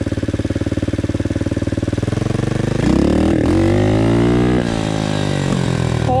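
A Loncin 110/125 motorcycle engine with a kit air filter and mixture idles with a rapid, steady putter, then revs up sharply, holds a high droning pitch and eases back, loud and close.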